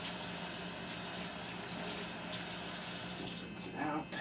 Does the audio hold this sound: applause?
no